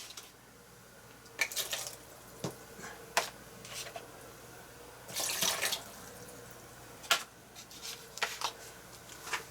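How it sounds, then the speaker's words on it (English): Paintbrush being rinsed in a water bucket: quiet intermittent splashes and swishes come in short bursts over a soft background, close and gentle, with no one speaking. "let me wash out my brush while it's drying"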